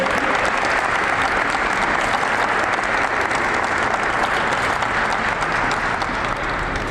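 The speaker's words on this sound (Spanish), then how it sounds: "Pues quiero un aplauso para esta gente." Sustained, dense applause from a meeting audience at a working session of the Mexico–Ukraine Friendship Group, loud and steady throughout with no pause, tapering only slightly at the very end.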